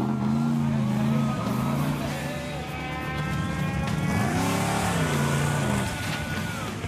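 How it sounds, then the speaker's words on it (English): A car drives through a water crossing in Iceland, its engine droning and rising in pitch as it revs, with a broad wash of splashing water mixed in, loud and close throughout. "it's a gentle splash through the opening water"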